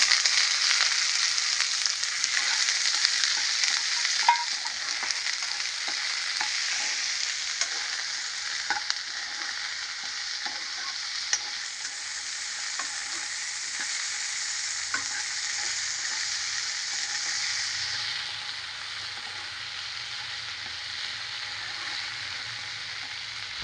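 Ivy gourd stir-fries in a pan, a soft, steady sizzle running throughout with small scraping stirs, heard close up and quiet, with no talk.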